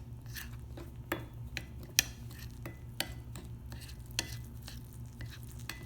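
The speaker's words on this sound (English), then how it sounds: "I tend to stir this together a little bit before I add the final ingredient" Sorghum pancake batter being stirred in a bowl, giving soft repeated scraping and tapping strokes with occasional light clinks of the utensil against the bowl over a steady low background hum.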